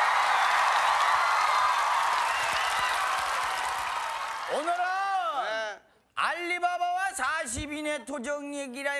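Loud studio audience applause at a Korean TV comedy show after a stunt of sucking up a hard water bottle, a broad wash of clapping that thins out before a speaking voice takes over.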